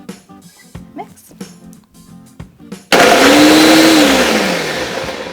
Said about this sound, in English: we're gonna put our top on and pulse until it's completely